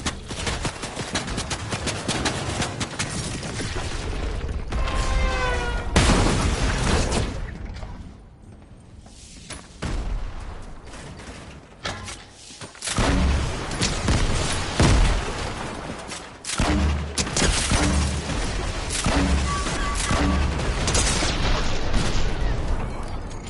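Grenade explosions and bursts of gunfire in the Fortnite video game, a loud, dense barrage of rapid shots and booms that keeps going for most of the stretch, dips briefly in the middle, then surges back.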